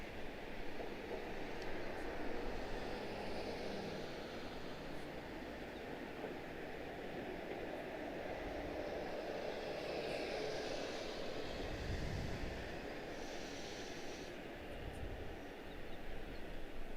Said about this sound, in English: that will be the A340-6, Lufthansa 418, coming our way right here.